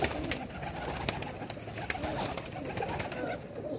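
Pigeons kept as a hobby flock, including a golden pair, coo softly and repeatedly in a steady low murmur, fairly faint, with no talking.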